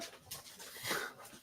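A dog whimpers and pants in short, breathy bursts nearby, a thin, high whine rising briefly over soft background noise, with no one speaking.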